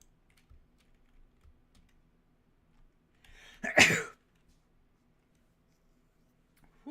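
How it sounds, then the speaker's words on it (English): One loud, close human sneeze bursts out of near silence, with only faint keyboard clicks and small desk noises around it. "Big sneeze."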